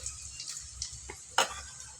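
Garlic and finely cut dried red chillies frying in a pan for drumstick thokku, a soft continuous crackle with a few brief stirring clicks and one sharper spatter near the end, close and fairly quiet.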